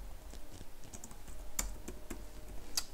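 Keys clack on a computer keyboard as a Shift+K combination is entered, a few sharp separate clicks, the strongest two near the middle and end, close and quiet over faint background hiss.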